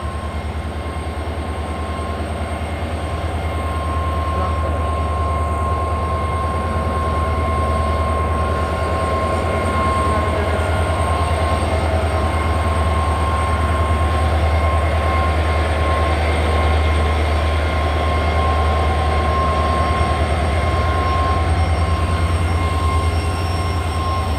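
The Malda to Balurghat passenger train, hauled by a WDG4D diesel locomotive, runs along with a steady, loud low rumble and a constant humming drone, unbroken throughout and with no voices.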